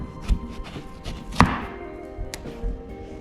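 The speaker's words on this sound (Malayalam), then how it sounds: "അതിനായിട്ട് ഞാനൊരു വെള്ളരിക്ക എടുത്തിട്ടുണ്ട്. ഇത്രയും വേണ്ട, നമുക്ക് കട്ട് ചെയ്ത് കുറച്ചെടുക്കാം." A knife chops a cucumber on a cutting board, giving a few separate thunks at an uneven pace. The chops are close and moderately loud, and nobody speaks.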